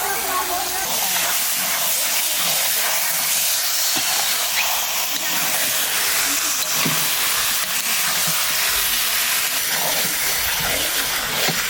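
Goat meat goes into a well-fried spice paste in a home kitchen, raising a loud, continuous hiss of sizzling that holds steady throughout, with faint clatter over it.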